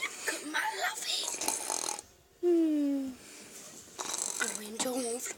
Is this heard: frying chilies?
no